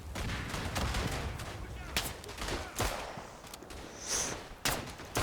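Gunfire in the WWI shooter Verdun, with several sharp rifle or revolver shots and distant battlefield fire over a dense, noisy background rumble, moderately loud and irregular.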